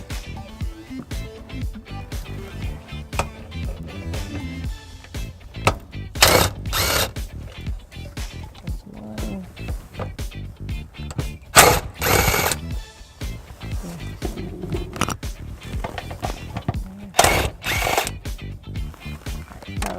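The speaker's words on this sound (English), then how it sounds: "we are going to be removing the 3 10mm bolts that are going to be on this paneling" A powered driver backing 10mm bolts out of an underbody panel on a 2018 Ford Focus, with repeated short bursts of close mechanical whirring and ratcheting separated by pauses and handling noise.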